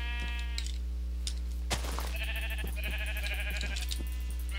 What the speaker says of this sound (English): Good thing we have hundreds and hundreds of sheep.